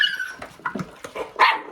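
Puppies squabbling over raw food let out a quick scatter of short yips and barks, close by and uneven in rhythm, with no talking over them.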